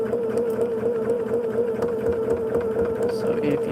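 A sewing machine runs continuously while stitching quilt pieces, its close, steady motor whir and needle buzz holding an even pitch throughout, with faint background sounds but no clear talk.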